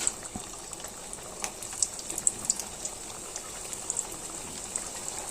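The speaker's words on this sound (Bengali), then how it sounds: "চুলাইতে একটা কাবাব একটু ডুবা তেলে ভাজতে হবে" Beef kebabs deep-frying in hot oil on a high-heat stove give a steady, close sizzling hiss scattered with small pops and crackles, with no talking.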